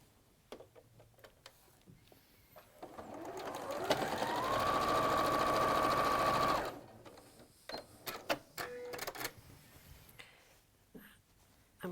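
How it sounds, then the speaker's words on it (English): A sewing machine joins quilt blocks for a crossroads quilt, running in a smooth whirring burst of about three seconds, with scattered fabric handling and ticks before and after in a quiet room. "So again, I'm lining up those 90 degrees and stitching that one over."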